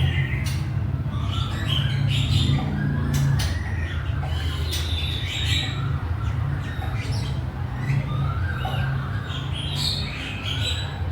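A captive-bred white-rumped shama sings a varied run of chirps and whistles over a constant low hum, the calls clear and fairly close.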